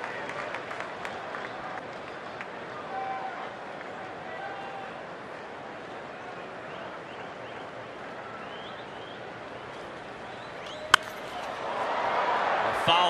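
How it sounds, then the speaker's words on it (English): A baseball stadium crowd roars after a foul ball, and the cheering swells toward the end, heard under play-by-play commentary with a sharp crack of the bat just before. "A foul ball elicits a roar from the crowd, an appreciative crowd here for Albert"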